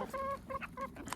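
An old Rhode Island Red rooster gives a quick run of about four short clucks, close and fairly soft.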